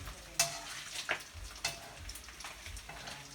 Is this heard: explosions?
no